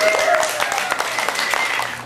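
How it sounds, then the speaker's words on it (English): A short burst of audience applause at a birthday party gathering, brisk clapping that starts strong and slowly tapers, with faint voices underneath. "Let's give her a round of applause."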